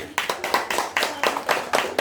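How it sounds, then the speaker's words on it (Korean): Short burst of audience applause in a church, rhythmic clapping from a group at fairly close range with no talk over it. "박수 한번 주십시오"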